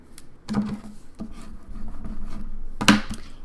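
A paper flap on a mini album page is folded by hand, giving a few close, soft crinkles and brushing rubs, with sharper paper snaps near the start and again near the end.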